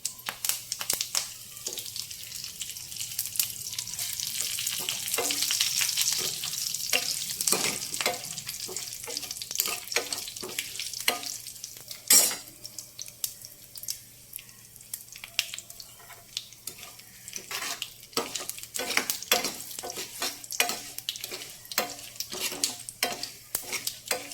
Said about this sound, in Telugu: ఇప్పుడు కరివేపాకు వేసుకుందాం.